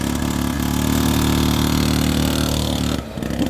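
Grave Digger super mini monster truck engine running steadily at close range with a rough, buzzing idle that holds level, then briefly dips near the end.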